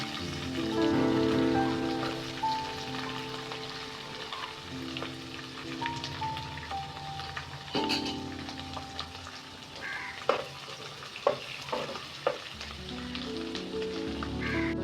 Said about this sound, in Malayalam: അതിലേക്ക് വെളുത്തുള്ളി ചെറുതാക്കി എറിഞ്ഞത്